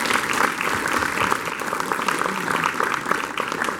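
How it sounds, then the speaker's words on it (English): Audience applause at a panel discussion on big data, steady dense clapping from a room full of people throughout, fairly loud and close with no pause. "can I get a round of applause if you learned something today?"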